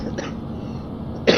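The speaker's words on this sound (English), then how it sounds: "I do have the slight remains of cough, so do excuse me if I end up coughing" A single short cough from a man near the microphone, sharp and loud, following a low steady hum of background noise.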